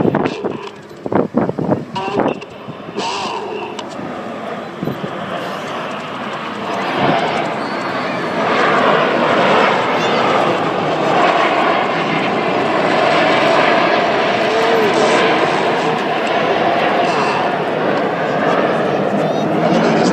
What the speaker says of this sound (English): This is Apollo with the jets around 5 to 6 feet apart as they fly the Apollo roll.